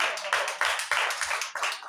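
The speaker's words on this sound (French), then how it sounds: "Applaudissons pour cet esprit." Audience at a French-language church service clapping together, a few loud rhythmic bursts of claps in quick succession, close and uneven.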